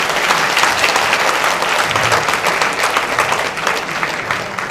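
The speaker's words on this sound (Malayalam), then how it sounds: "ഇനിയും കൈയടി പോരാ." Audience at a film audio launch event applauding loudly and continuously, a dense, even wash of many hands clapping throughout.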